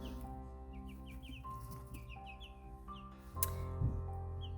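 Four-week-old chicks, Orpington and mixed breeds, cheeping and clucking close by in short repeated peeps, with a louder burst of cheeps near the end.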